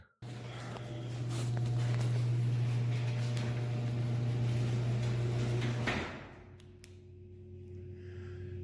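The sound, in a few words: door moving in a ghost video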